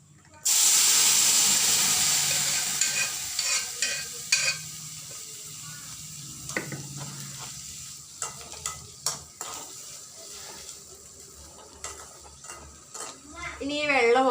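Mung beans and dried red chillies cooking in a pan in a village kitchen, with a steady steaming sizzle that fades slightly, broken by scraping stirs and spoon clinks, and a voice talking briefly near the end.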